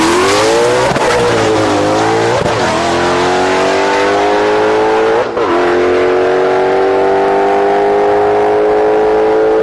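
A 2024 Mustang drag car with a Whipple supercharger and bias-ply tires, making about 800 rear-wheel horsepower, launches hard down the quarter mile. The engine is loud and close and roars through rising gear pulls, with sharp shift breaks and no talk.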